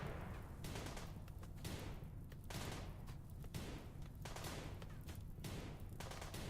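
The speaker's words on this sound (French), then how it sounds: "faut viser un peu mieux là les mecs, ça fait 5 minutes que vous tirez." Gunfire from the video game RimWorld, a steady stream of repeated shots and bursts at moderate level, running continuously as dense background battle noise with no talk.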